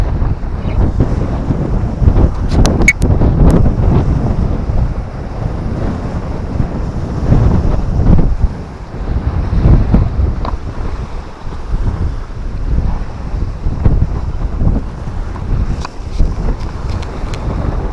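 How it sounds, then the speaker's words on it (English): Strong wind gusts along the shore of the River Humber, buffeting the microphone with a rough, continuous roar that rises and falls, with no talking. "Sorry about the wind."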